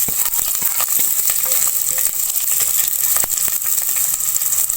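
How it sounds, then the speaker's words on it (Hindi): Long-cut onions sizzle loudly as they brown in a pan, with a continuous hiss broken by the scrape and clatter of stirring, close and without talk. "अब इस प्याज को मैं ब्राउन कर लूंगी।"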